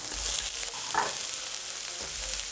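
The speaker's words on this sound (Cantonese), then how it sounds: "After just 40 to 50 seconds of stir frying the aromatics, we'll add in all of the fish" Fish and aromatics stir-fried in a hot wok for Chinese salt-and-pepper sole, a steady loud sizzle with brief scraping bursts from tossing, no voices.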